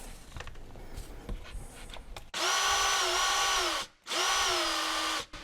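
A Parkside PABH 20Li B2 rotary hammer drill, fitted with a higher-quality bit, runs in two loud, steady whirring bursts separated by a brief pause, following some quiet handling noise.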